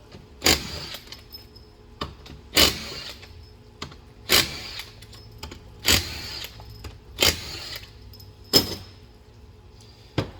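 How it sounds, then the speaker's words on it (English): Tools working 13 mm pump bolts out of a 4L80-E transmission case: six short, sharp mechanical bursts at a steady pace, about every second and a half to two seconds, close by over a quiet background, with no talk. "Now I'm going to flip it around and take out the pump bolts, which are 13 millimeters."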